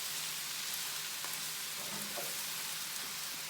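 Food sizzling and frying in sesame oil in a pan on high heat, a steady broadband crackle with faint scraping as it is stirred, continuous throughout.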